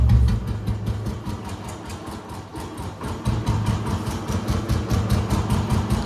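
An old Royal Enfield Bullet motorcycle idles close by, its single-cylinder engine thumping in a steady, loud, even rhythm the whole time with no talk over it.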